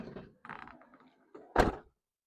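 A camper van R602 side door is shut, with a few soft mechanical clunks followed by one firm closing thud, close by and alone.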